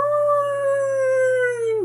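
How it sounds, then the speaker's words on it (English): A single long, steady wolf victory howl from the video game Okami, clear and tonal, held for nearly two seconds before dipping at the end, heard alone without talk. "Now give me one of those famous victory howls of yours."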